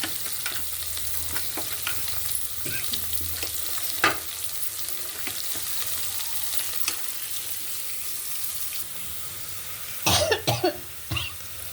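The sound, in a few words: red onions frying in a pan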